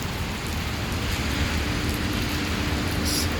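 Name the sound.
rain at DMCC Metro station in Dubai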